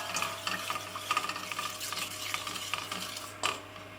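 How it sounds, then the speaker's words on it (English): A spoon stirs sugar into melted butter in a pan, scraping and swishing steadily with a faint sizzle underneath, close and moderately quiet, with a sharper clink near the end. "I'm going to add the sugar and I'm going to stir this until it's dissolved"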